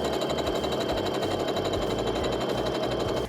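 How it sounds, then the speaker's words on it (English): A home sewing machine runs steadily for a few seconds, stitching quilt backing fabric with a rapid, even mechanical chatter close up and no talking. "So I finished sewing my backing together."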